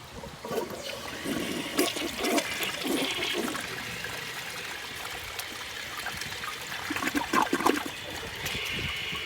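A 1986 Kohler Wellworth toilet with an adjustable flapper valve flushes in a rushing swirl of water that runs steadily for about nine seconds, then trickles and gurgles as the bowl refills.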